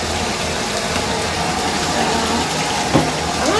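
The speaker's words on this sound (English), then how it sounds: "my bath is running and I have the bubble bath right here, and I'm just gonna pour it in" Water runs steadily into a bathtub from the tap as sweet almond bubble bath is poured in, a close, constant gushing hiss with a brief splash near the end.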